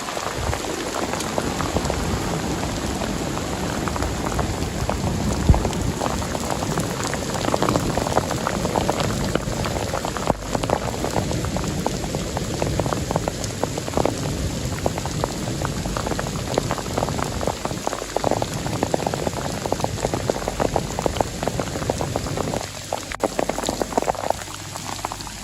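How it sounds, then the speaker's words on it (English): Heavy rain drums steadily on a tent's fabric beside an open lake, a dense close patter with scattered louder drops and faint low rumbles throughout. "Rain and thunder slam the fabric inches from his face."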